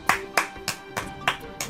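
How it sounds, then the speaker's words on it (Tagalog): A single person claps in steady rhythm during a Philippine Senate speech, about six crisp claps spaced evenly, close and distinct with no talk over them. "Pumalakpak ito si Villanueva."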